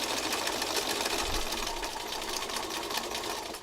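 Sewing machine stitches fabric steadily along an edge, a continuous fast mechanical whirring hum heard close and unbroken.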